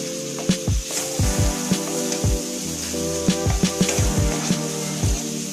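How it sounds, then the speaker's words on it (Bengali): Tomatoes frying over a high flame in a pan while being cooked down for a tomato soup, steady loud sizzling with repeated knocks and scrapes of a spoon against the pan. "আর একটু আমি টমেটোগুলোকে ভেজে দেবো।"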